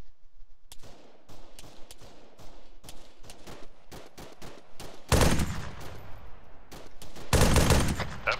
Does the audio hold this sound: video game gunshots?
yes